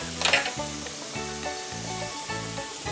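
Sausage browning in a pot, with a soft, steady sizzle running underneath a brief spattering crackle near the start.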